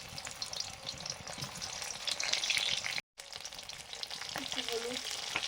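Boiled, peeled round homegrown potatoes frying in a pan make a continuous close sizzle with soft stirring clatter, cut by a brief gap of silence midway.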